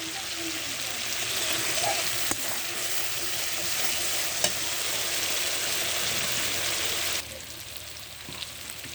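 Spice paste for a young goat meat curry fries in oil in a pan, giving a steady, dense sizzle that holds at an even level and eases slightly near the end. A few faint clicks sit on top.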